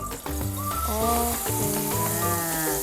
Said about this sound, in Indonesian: Nah ini minyaknya udah panas nih ya. Kita lanjut buat masukin bumbu dapurnya. Bumbu halusnya kita masukin.